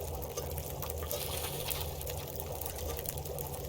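Water being made in The Long Dark video game, a steady broadband bubbling and pouring wash that holds at an even level from start to finish with no break.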